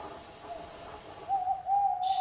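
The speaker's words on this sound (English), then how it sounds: "Whenever that owl hoots, a mist rolls in" An owl hoots at night, a steady tonal call that starts faint and grows louder and more sustained toward the end, heard alone with a brief high chirp at the close.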